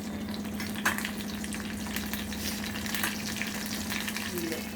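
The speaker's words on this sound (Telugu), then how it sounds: "పోపు సామాను, మెంతులు, ఆవాలు, జీలకర్ర, కరివేపాకు, మిర్చి అన్నీ వేసుకుంటాం." Mustard seeds, fenugreek, cumin, curry leaves and chilli tempering in hot oil for a Telugu rasam, a steady close frying sizzle with scattered crackles and a few stirring scrapes throughout.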